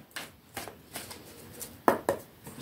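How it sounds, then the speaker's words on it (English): Tarot cards being shuffled by hand, a handful of soft papery riffles and taps coming in short separate bursts, the last two sharper and closer, with no talk. "Let's give them a shuffle."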